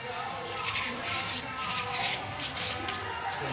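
Surface rust being rubbed off a wheel hub by hand, a steady close scratchy scrubbing with rhythmic strokes that swell and fade across the whole stretch.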